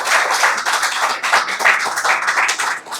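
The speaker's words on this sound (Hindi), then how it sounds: "कुछ तालियां आप स्वयं के लिए भी बजा दीजिए" An audience in a college auditorium claps continuously, a dense and lively patter of many hands, close and fairly loud throughout.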